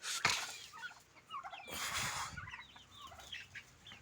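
Native country hens with mostly white, speckled plumage cluck and call in a farm coop, a mix of short clucks and brief squawks spread across the moment, fairly close but not loud.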